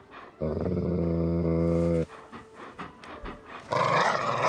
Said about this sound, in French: C'est le pitbull que je me suis acheté. Tu veux l'entendre?